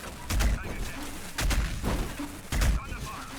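Bursts of gunfire from the Warhammer 40000 Battlesector strategy game in an Ork versus Astra Militarum multiplayer match, three heavy booming volleys spaced about a second apart with noisy rumble between them.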